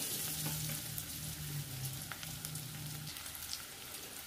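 Garlic and shallots frying in a pan for spicy guisadong bagoong alamang: a steady, close sizzle that carries on throughout, with a faint low hum beneath it for the first few seconds.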